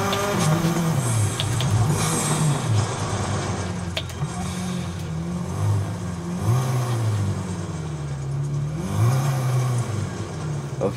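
A rally car engine in the Dirt 2.0 racing game revs repeatedly, rising and dropping in pitch with each gear change, loud and continuous throughout.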